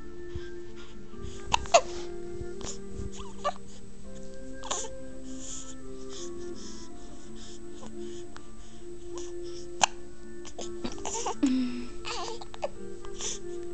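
A one-month-old baby hiccuping: a few small, sharp hiccups spaced seconds apart in a quiet room, with faint babyish noises between them.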